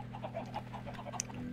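Chickens cluck in Minecraft, a string of soft, evenly spaced clucks over a low steady hum, moderately faint with no voices.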